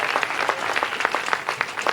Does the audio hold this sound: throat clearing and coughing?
no